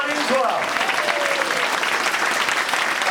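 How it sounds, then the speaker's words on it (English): Audience applause at a fab cafe event, a dense, steady wash of many hands clapping close by and filling the clip, with a few brief voices and whistles rising above it near the start. "So we've got a round of applause for David Richardson."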